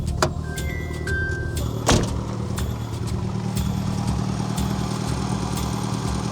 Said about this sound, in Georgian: ძრავი მუშაობს